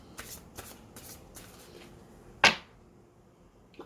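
A deck of cards is shuffled during a tabletop card game: soft rhythmic riffles, then one sharp, loud snap of cards with a quick decay, and a faint tap near the end.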